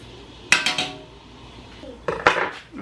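A spoon scrapes and clinks against a pot in two short bursts while food is stirred during meal prep, fairly close and with no talking.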